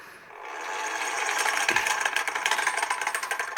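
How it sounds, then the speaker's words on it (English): A hand-crank bellows fan on a charcoal or coal forge, out of balance and in need of maintenance, spins up from quiet into a loud, steady whirring rattle with a fast rhythmic clatter, close by. "It has a hand crank bellows put on it"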